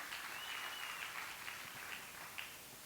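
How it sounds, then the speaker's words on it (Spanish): A church congregation applauds the Lord at a Spanish-language service, a soft, steady wash of clapping heard at a distance, fading slightly toward the end. "den un aplauso al Señor"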